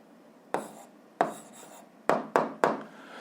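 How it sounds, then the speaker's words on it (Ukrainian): Someone writes an answer by hand in five short, crisp strokes, each starting with a tap and trailing off, spaced irregularly in a quiet room without talking. "Пишемо відповідь."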